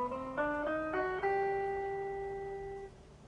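Single guitar notes step upward one after another in a G harmonic major scale, each plucked tone ringing clearly. The last note sustains and then fades, all played quietly.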